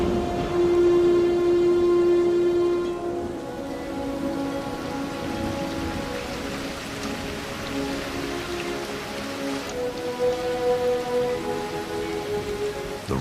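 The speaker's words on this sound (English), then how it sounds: "The rains have returned." Rain pours steadily from the season's first big thunderstorm in alligator country, a dense, even hiss of drops hitting surfaces, with faint tonal hums beneath it for about thirteen seconds.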